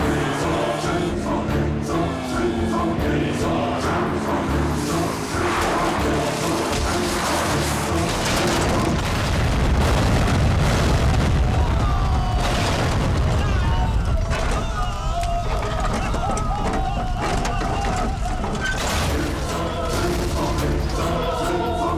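Explosion effects in a dubbed South Indian action movie, deep booming blasts and rumbling debris layered under music and shouted dialogue, with several loud hits spread across the scene.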